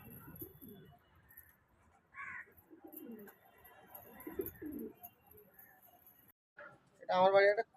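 Pet pigeons at a home loft in Howrah coo in soft low bursts, with a louder call near the end and scattered faint bird sounds, while a person talks over them.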